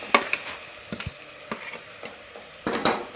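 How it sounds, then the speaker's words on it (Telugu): Spoon strokes stir home-made garam masala through mutton pieces frying in a pot, a series of separate scraping clatters over a low, steady sizzle, close and fairly quiet. "ఇప్పుడు ఇది హోమ్ మేడ్ గరం మసాలా మంచిగా ముక్కలకు పట్టేలా కలుపుకోవాలి"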